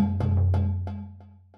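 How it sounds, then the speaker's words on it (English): A single note from the Padshop 2 Enlightened Aftertouch preset, layering a taiko drum and a djembe, sounds as a sustained low tone with a few decaying granular hits repeating over it, heard alone. "the preset Enlightened Aftertouch has a taiko drum loaded on"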